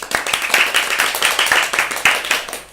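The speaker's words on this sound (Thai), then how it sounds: "เสียงปรบมือดังมากเลยนะคะ" A group clapping hands in rapid, sharp repeated claps at a steady pace, fairly close and continuous throughout, with no speech over it.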